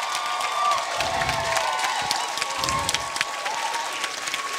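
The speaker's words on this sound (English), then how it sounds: "can we have a round of applause for the fabulous music staff as well" Applause and cheering from a school audience at a young singer competition, a crowd clapping steadily with scattered whoops and children's shouts, moderately loud and sustained.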